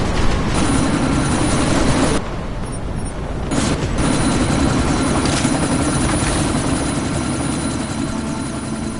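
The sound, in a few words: helicopter in the video game Deus Ex Mankind Divided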